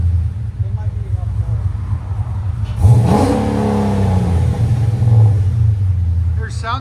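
A Chrysler 300C with a 6.1L HEMI V8 and Flowmaster exhaust rumbles loudly at idle up close, then revs hard in one surge that holds for a couple of seconds before settling back to a throaty idle.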